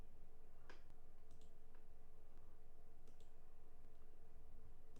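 A computer mouse gives a few faint, sparse clicks over a steady low electronic hum, with no talking.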